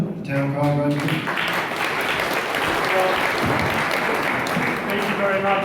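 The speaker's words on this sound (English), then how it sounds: "A round of applause for our Master of Ceremonies." Audience applause at a centenary ceremony marking the first direct wireless messages from the United Kingdom to Australia, a steady sustained round of clapping, with a voice speaking briefly over it at the start.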